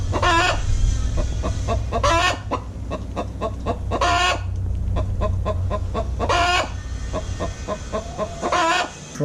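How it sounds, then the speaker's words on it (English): Several chickens clucking close by in a rapid, repeated rhythm, with loud squawking cackles breaking out every couple of seconds over constant background hum, no talking. "Chickens will make a lot of noise when they actually lay an egg sometimes."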